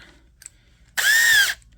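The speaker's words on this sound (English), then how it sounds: "Let's drill that baby out." A power drill drilling metal on a Snapper rear-engine riding mower whines loudly for about half a second, a steady high-pitched motorized drone that starts and stops abruptly, with quiet background otherwise.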